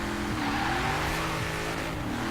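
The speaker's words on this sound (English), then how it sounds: "It's a pretty good amount of wheel spin" A Ram Rebel TRX pickup launches with wheel spin in Forza Horizon 4 on a rainy road, its engine revving hard and climbing in pitch, with a steady throaty drone and a hint of tire scrub, close and continuous.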